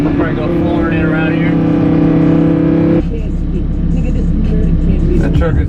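A Lamborghini Huracan engine idles loud and steady with a high-revving tone, then shifts into a rougher, broadband roar partway through, close and continuous.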